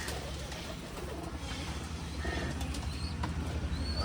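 Pigeons coo inside a pigeon house, with a continuous low murmur from several birds, a few higher chirps above it and a faint flutter of wings.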